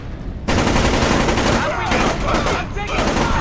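Rapid automatic gunfire from a Splinter Cell Chaos Theory firefight, dense sustained bursts that start abruptly and stay loud and close throughout.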